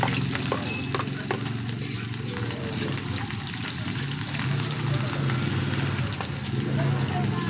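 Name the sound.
garlic and onion sautéing in a hot pan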